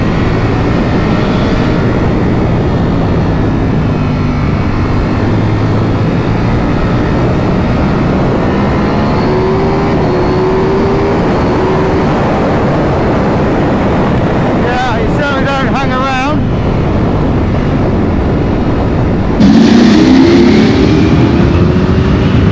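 A 2022 Ducati Panigale V4S motorcycle leans through corners, its engine note rising and falling under steady, loud wind rush, with a brief sharp revving burst near the end.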